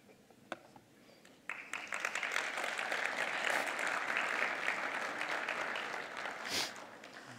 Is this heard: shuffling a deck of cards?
no